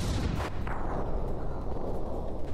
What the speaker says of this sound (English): these shells are just flying in here and they're really keeping the Gimle's lasers busy